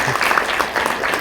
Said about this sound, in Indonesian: Yang setuju aja yang kasih tepuk tangan.